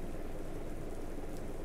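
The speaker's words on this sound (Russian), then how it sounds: "Так, пошел у нас дождик." Rain falls steadily in Euro Truck Simulator 2 while driving a Volvo F10/F12 truck, a continuous even hiss of drops with no pauses or talk.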